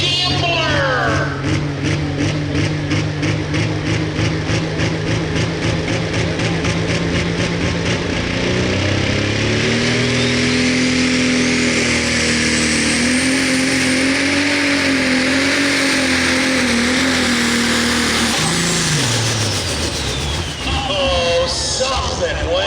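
An International 1066 tractor revs hard during a tractor pull at a county fair, its engine roaring loud and close as the pitch climbs, holds, then drops, with an announcer talking over it.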